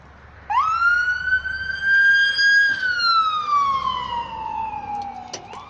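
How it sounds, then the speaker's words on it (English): An emergency vehicle siren passes outside a home, a single loud wail rising then slowly falling in pitch as it goes by, heard alone without talk. "Sorry about the sirens, I live in the hood."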